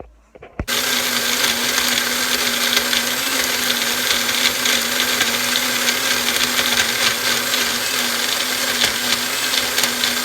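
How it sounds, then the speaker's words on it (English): A blender switches on with a click and runs loudly and steadily at high speed, a constant whirring motor roar that fills the rest of the clip. "Okay, so this is the blender going"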